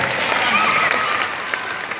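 An audience at a live stage show claps in a short burst of close applause, with a voice talking over it before it tapers off.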